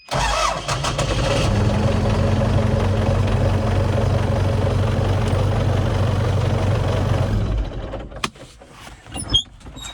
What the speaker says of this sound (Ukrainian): Ну от слухайте, як крутий стартер на 12 вольт.